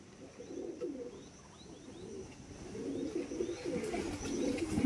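Pigeons coo softly and repeatedly in low, rolling phrases at a moderate distance, with faint chirps from other birds and a quiet background hum.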